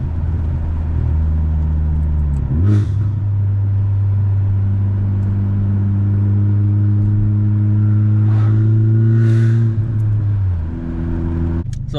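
A 2021 Honda Civic Type R engine with silencers revs steadily and climbs in pitch, drops briefly as if shifting gears, then pulls again with a loud, sustained mid-range roar.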